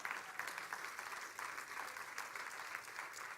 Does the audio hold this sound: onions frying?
no